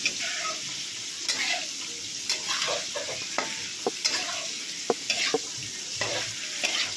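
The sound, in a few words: fried vegetables stir-fried with spices in a pan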